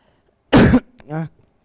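A single harsh cough, followed by a short voiced throat-clearing grunt, close and loud in an otherwise quiet room.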